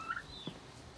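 A male turkey on a homestead gives a brief, quiet gobbling call, a short burst of warbling notes heard alone at a modest distance.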